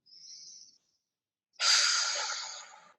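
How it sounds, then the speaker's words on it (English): A person breathing into the belly gives one short breath, then a long audible exhale as a soft airy sigh, close and alone. "exhaling down to the ground with an audible exhale"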